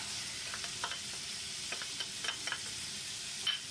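Squid, carrot and onion stir-fried in a hot pan for seafood fried rice give a soft steady sizzle, broken by scattered scraping and clinking stirring strokes, with no voices.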